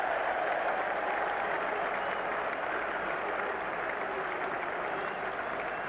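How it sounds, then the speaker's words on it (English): Home crowd at an England v West Indies Test match at Edgbaston in 1995 cheers and applauds steadily, a broad, continuous wash of distant stadium noise that holds at an even level throughout with no voices on top. "And the home crowd has something to cheer."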